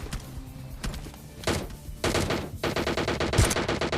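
Gunfire in PUBG Lite, a mobile battle royale game: loud, close single shots and bursts of rapid automatic fire, with short gaps between volleys.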